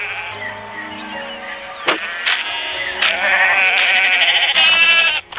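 Goats in a video game bleat several times in quick succession, with sharp, nasal cries breaking in at irregular moments over a steady tonal background and growing louder toward the end.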